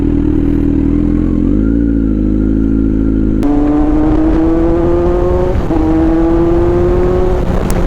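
A Kawasaki Z900 motorcycle engine revs loudly and close during a rev-matched downshift. A low idle-like drone jumps into a sharper, rising whine partway through, and the rising tone repeats near the end.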